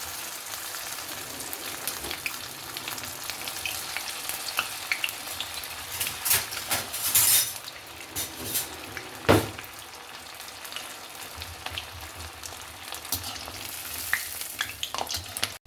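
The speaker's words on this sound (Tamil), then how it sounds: "நம்ம ஊற வச்சுருக்க இந்த பன்னீர் மசாலாவை ஆயிலில் வந்து போட வேண்டியதான்." Marinated paneer 65 pieces fry in hot groundnut oil on a low gas flame, giving a steady close sizzle and crackle. A few louder spits and a stirring clatter break through, with no voices.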